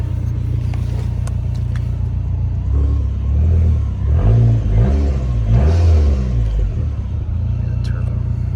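Turbocharged 2005 Dodge Neon SRT-4 on a cold start, a close, loud, steady engine idle rumble that rises in a couple of brief revs midway before settling back.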